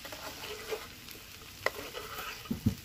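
Long strips of coconut frying in a pan and being stirred, a soft low sizzle with a few scraping stir strokes and two louder knocks near the end, no voices.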